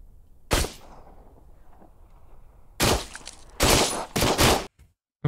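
Gunfire from a video game: a sharp single shot followed after a pause by two close bursts of rapid shots, loud and near, with quiet background in between and no talking.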